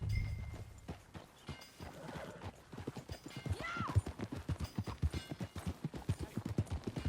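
Horse hooves clip-clop at a steady walking rhythm in Red Dead Redemption 2, growing louder and more regular, with a horse's brief whinny partway through.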